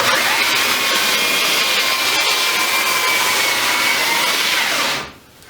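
A belt sander runs on wood for a sign, making a loud, steady whir that holds without a break for about five seconds and then cuts off abruptly.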